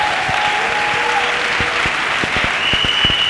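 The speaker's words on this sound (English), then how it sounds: "Acclamons pour Jésus-Christ. Clap for Jesus." A crowd of worshippers at a national Bible camp claps for Jesus in continuous applause, with a steady bed of many hands, sustained musical tones and a few louder individual claps standing out near the end.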